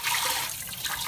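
Water splashes and swirls as rice is rinsed in a pot or bowl, a continuous close washing sound with no voices.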